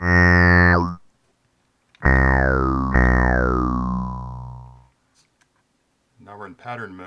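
Grendel 2TAC analog sequencer pattern driving an RA-99 Grenadier synthesizer: three loud, buzzy notes with sweeping filter, the last two sustained and decaying, followed by brief quiet talking near the end.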